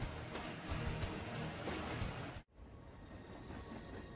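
A train rumbles steadily along the tracks with a dense clattering roar, then cuts abruptly to a quieter, softer running sound of rail travel.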